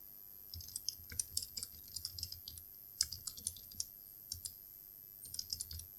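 Computer keyboard keys clatter in quick, irregular bursts as a chart title is typed into an Excel bar chart. The typing is close and crisp, with short pauses between runs.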